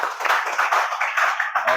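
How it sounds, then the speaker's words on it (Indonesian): An audience claps steadily through a classroom session on prompt engineering for coding, a dense, fairly close patter of many hands with no voices over it. "Oke, bagus. Tepuk tangan."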